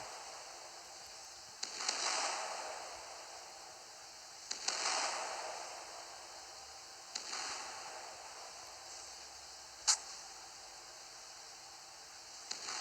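Destroyer guns on the Neustrashimy fire armor-piercing shells in the naval combat game Naval Creed: a short salvo, then three more at roughly even intervals, each a sharp crack trailing into a fading hiss over a low, constant background rumble.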